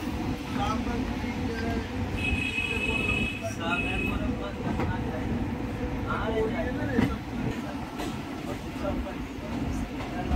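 A Rewari to Delhi passenger train pulls away from a station with a steady rumble of wheels on the rails and occasional clanks and squeals. Someone talks over the noise throughout.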